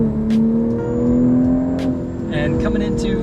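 Automatic Toyota Supra with 382 horsepower on Pirelli high-performance tires, its engine droning steadily with slight pitch rises as it drives a track, heard from inside with someone talking over it.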